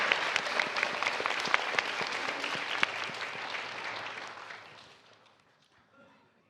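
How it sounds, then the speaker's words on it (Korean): An audience at a Democratic Party political rally claps steadily and densely for several seconds, then the applause thins out and fades away to near silence. "애써주신 이해찬 상임고문님께 다시 한번 큰 박수 부탁드리겠습니다."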